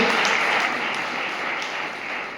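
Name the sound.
congregation clapping hands in thanks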